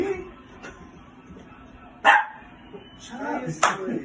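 A puppy gives a few sharp barks and yips in short separate bursts indoors, with people talking nearby.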